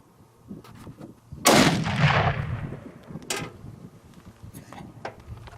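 A 300 Win Mag Accuracy International Mk13 rifle with a Vortex scope fires a single 180 grain Fusion round: one loud, sharp crack followed by a long echoing decay, then a fainter distant thump.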